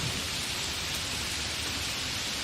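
Heavy rain pours in a steady, dense hiss without a break, with a low rumble underneath, during a stormy night with lightning and thundering clouds.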